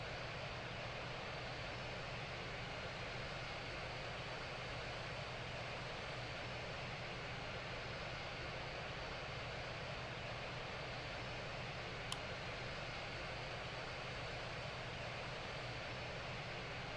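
Steady broadband roar of an Airbus A350-1000 jet airliner on landing approach to a runway, a continuous even engine and airflow rush held at constant loudness throughout, with one brief click partway through and no talking.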